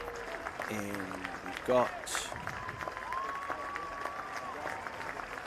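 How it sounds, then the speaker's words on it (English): At a primary school athletics championship, spectators applaud and cheer as girls finish a 100 metres track race, a light patter of clapping under a commentator's voice, with a brief louder burst partway through. "she will receive the huge reception of the crowd, along with all the girls for their efforts in the 100 metres"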